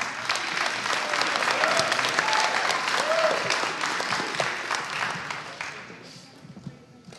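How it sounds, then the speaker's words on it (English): Warm, steady audience applause at a Catholic schools spelling bee, filling the room for several seconds before gradually tapering off near the end. "Let's hear it for Declan."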